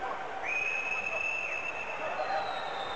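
A referee's whistle sounds at a 1995/96 Antibes versus Limoges CSP professional basketball game, one long shrill blast over crowd murmur and commentary.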